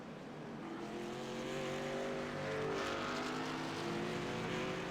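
Race car engines in the iRacing video game hum steadily as the field circles behind the pace car at Auto Club, a continuous moderate drone with slight swells.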